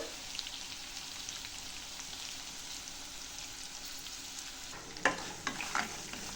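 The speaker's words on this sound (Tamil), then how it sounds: "இப்போ நல்லா வதக்கிட்டு நல்லா வதக்கலாம்" Mint, coriander and curry leaves sauté in a pan for chutney, a steady soft sizzle throughout, followed by a few close scraping stirs near the end.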